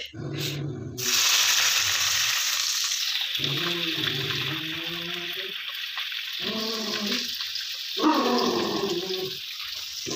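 Chopped onions dropped into hot oil in a home kitchen give a steady, close sizzling hiss. A dog barks and whines in short repeated bursts over it.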